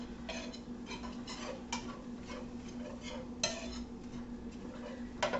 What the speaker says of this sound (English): And then I take a whisk and just whisk that all up really good.